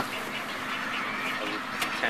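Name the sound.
young sea birds at oil spill nesting area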